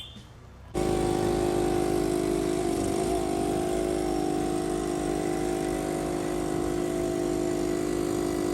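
An old air compressor, prepared for spraying paint on a 1997 Mercedes-Benz C280 W202, kicks on after a brief quiet start and runs as a loud, steady mechanical drone with constant harmonic hum throughout.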